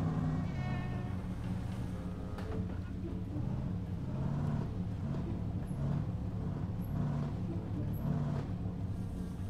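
Audi 80 car reversing in My Summer Car, a steady low engine drone with idle harmonics running throughout, moderately loud and close, with no talk.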